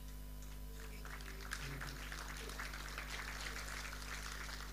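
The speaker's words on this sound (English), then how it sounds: "Those hand claps are because you walked your wife to the stage" Hand claps from the crowd at an alumni homecoming dinner swell into steady, moderately distant applause over a low room hum.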